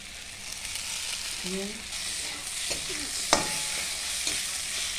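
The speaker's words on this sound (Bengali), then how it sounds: "নাড়িয়ে মশলার সাথে ভালো করে কষিয়ে নেব।" A spice mixture for egg tarka sizzles and fries in a pan while it is stirred, giving a steady hiss with faint scraping and one sharp clink, close up and without speech.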